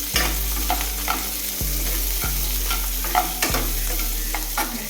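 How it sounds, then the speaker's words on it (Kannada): Curry leaves, dried red chillies and cumin fry in hot oil with a steady sizzle, broken by four sharp knocks of a spoon stirring against the pan; no one speaks. "ಫ್ರೈ ಮಾಡ್ತಾ ಇರಬೇಕು. ಈ ಕರಿಬೇವು ಸೊಪ್ಪು ಹಾಕಬೇಕು, ಮತ್ತು ಒಣಗಿದ ಮೆಣಸಿನಕಾಯಿ, ಜೀರಿಗೆ"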